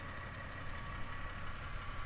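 A Toyota Tacoma pickup engine idles steadily up close, a continuous low rumble with a faint metallic heat shield rattle running through it, no voices present.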